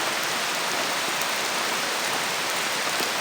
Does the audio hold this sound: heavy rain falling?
yes